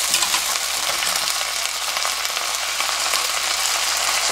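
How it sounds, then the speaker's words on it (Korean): Hot glass noodles drop into a pan of bean sprouts for a kid-friendly soy sauce japchae, setting off a loud, steady sizzle and crackle that runs unbroken the whole time with no talking. "뜨거운 당면 바로 넣습니다"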